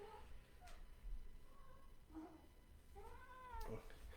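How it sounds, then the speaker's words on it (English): A small cat named Walter meowing, several rising and falling meows spaced out in a quiet room, faint and close, the last one longer and wavering. "I hear a cat behind me."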